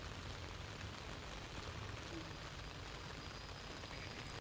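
Steady rain falls during a monsoon downpour in Gujarat, a dense even hiss of drops on surfaces, continuous and moderately close with no voices.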